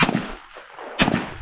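Two loud, close shotgun blasts at a clay target, about a second apart, each a sharp crack followed by a short decaying boom outdoors.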